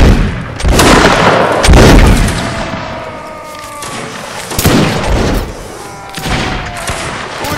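Musket volley fire in the Napoleonic Wars mod of Mount&Blade Warband: several loud, booming blasts with rolling echoes spread across a few seconds, scattered shots following, battle ambience beneath.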